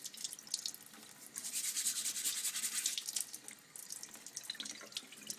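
A bronze oak leaf is rubbed by hand under running water among washing up, giving a close, continuous wet rubbing and splashing that swells in the middle and tapers off.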